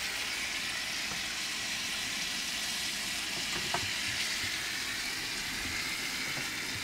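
Bacon fries in a pan on heat set too high, sticking a little, a constant dense sizzle and crackle held at a steady level throughout, close by with no talking.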